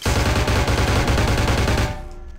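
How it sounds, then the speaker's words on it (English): Loud automatic gunfire from the video game Vampire: The Masquerade - Bloodlines hammers in a steady rapid stream for about two seconds, then cuts off into a quieter ringing tail. "I'm shooting it. And nothing's happening."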